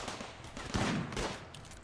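Bursts of gunfire from a firefight in the colony-building game Rimworld crackle in a rapid, ragged series of fairly quiet shots that overlap one another, with no talk over them.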